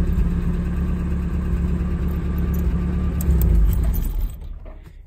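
A Datsun 510 car engine idles steadily after starting, a loud, close mechanical rumble that swells briefly near the end and then drops away quickly.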